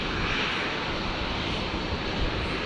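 Qantas 51 airliner taxiing at Brisbane International Airport, a steady dense jet engine rumble and hiss heard from the spotting area, continuous and fairly loud with no voices.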